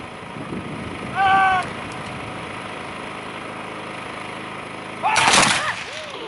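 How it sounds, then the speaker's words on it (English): Civil War reenactors fire a musket volley by company at a public display in Epworth, heard as two sharp bursts, one early and one near the end, with crowd murmur and a voice in between. "Firing by company. This is the old volley fire."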